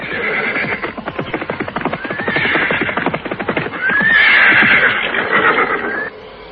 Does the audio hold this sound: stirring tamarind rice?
no